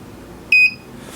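A digital reloading scale gives a single bright electronic beep, loud and close, lasting about a quarter second over a quiet background hiss.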